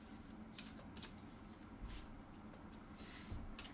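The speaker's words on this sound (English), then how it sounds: "Gonna get Goddess card for Sandy" Oracle cards being shuffled before a Goddess card is drawn, a steady close riffling and rustling that runs continuously at low volume with no speech.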